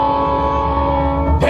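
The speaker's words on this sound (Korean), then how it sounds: "다시 한번 울리는 기적소리" Steam-style whistle of a train on the Gyeongchun Line at a memorial festival, one loud sustained tonal blast held steadily for over a second, close and clear.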